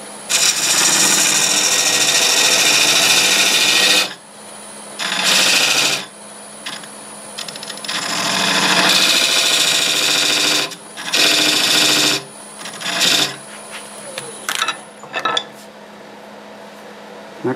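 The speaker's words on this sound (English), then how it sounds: "Let's go ahead and do that with the skew." A skew chisel cuts cherry burl spinning on a wood lathe, giving loud, rough scraping bursts of several seconds each, then shorter choppy cuts over a steady motor hum, with no talking.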